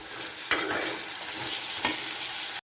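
Four cloves of garlic frying in a pan for chow chow chutney, a steady close sizzle with two sharp stirring clinks against the pan.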